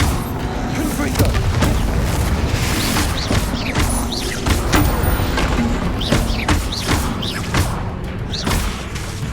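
Confringo blasting-curse explosions in Hogwarts Legacy, a run of sharp booming bursts repeating every second or so over a constant bed of game noise and mechanical clatter.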